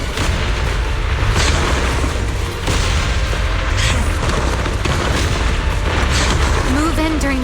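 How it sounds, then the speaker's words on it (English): Explosions in Zenless Zone Zero, a continuous loud barrage of booms and blasts with a brief dip partway, dense and close, with voices speaking over the din. "Move in during the gaps between explosions."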